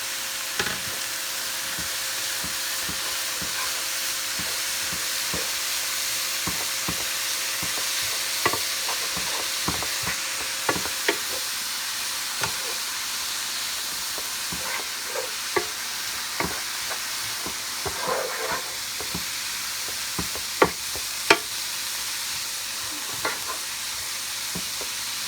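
Egg roll filling stirred and frying in a pan: a steady close sizzle throughout, punctuated by irregular scraping and clacking of a utensil against the pan as it is mixed.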